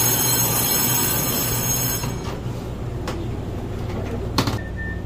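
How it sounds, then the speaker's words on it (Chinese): A Taiwan High Speed Rail bullet train pulls into a station near Tainan with a loud rumbling rush that eases off, followed by faint wheel squeals and a few metallic clanks. "火车就来了啦。 诶，这个是火车还是高铁啊？"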